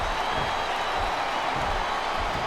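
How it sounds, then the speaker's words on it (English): A wrestling arena crowd in SmackDown vs. Raw 2007 roars and cheers as a dense, steady wash of noise, with some clapping mixed in and commentators talking over it. "I think these superstars are getting some feedback from the crowd, JR."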